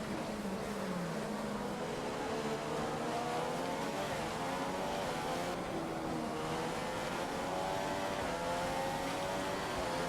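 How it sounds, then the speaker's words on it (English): Formula 1 engines from the F1 2015 game racing at the Australian Grand Prix, a continuous high whining roar with rising and shifting pitch as cars accelerate along a straight, loud and steady throughout. "this Mercedes engine is just too quick for the Honda in a straight line"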